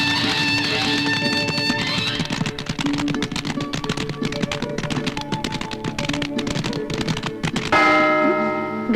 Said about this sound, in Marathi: घंटा वाजला.